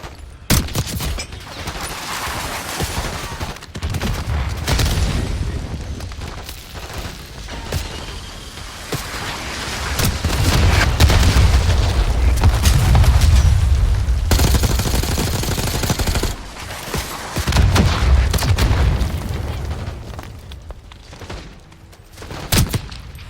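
Dense gunfire and explosions fill a Black Ops 6 campaign battle, with sustained automatic bursts, heavy booms and crashing impacts swelling and easing in waves, loud and continuous throughout.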